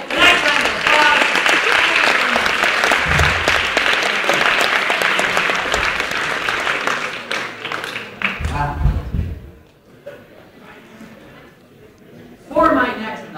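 Audience applause at a live mental calculation math show, a loud sustained wave of many hands clapping that fades after several seconds, followed by someone talking.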